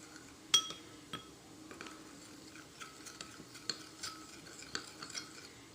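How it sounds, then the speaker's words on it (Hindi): Aloe vera gel and other ingredients being mixed in a bowl, with light clinks and scrapes of a spoon against the dish repeating irregularly, close and fairly quiet. "अब हम इन अज्जा को अच्छे से मिक्स कर लेंगे।"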